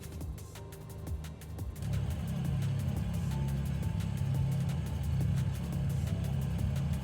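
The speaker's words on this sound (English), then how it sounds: "Just the growl of that engine." A piston aircraft engine growls steadily while taxiing in a flight simulator game, a low continuous drone that grows louder and thicker after a couple of seconds and holds there.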